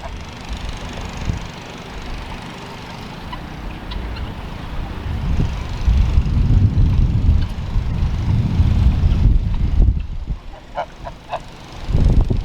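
A goose at an outdoor mineral lick lets out a few short honks late in the stretch, mixed into a loud, rumbling outdoor background with shuffling animal movement nearby.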